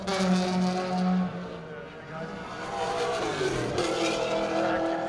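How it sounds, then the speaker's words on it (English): A race car at Buttonwillow Raceway brakes into a corner, the engine note dropping as it slows, then a faint tire scrub before the motor climbs again under steady revs, heard up close from inside. "Here's Savannah Little hitting the brakes, trying to turn into Sunset."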